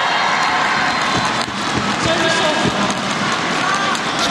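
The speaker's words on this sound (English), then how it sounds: "Getting a bit of a ribbing from the Malaysian crowd." A Malaysian crowd at an Indonesia versus Malaysia badminton team final at the 2017 SEA Games keeps up a steady roar of cheering and noise through the whole stretch, with a commentator talking over it.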